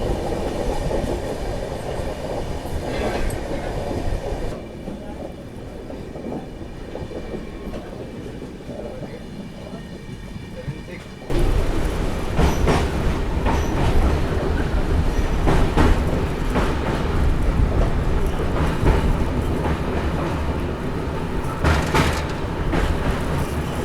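Ernakulam–Mumbai LTT Duronto Express running on rails past Apta station, a loud continuous rumble with rhythmic clickety-clack heard from inside the coach, growing louder midway.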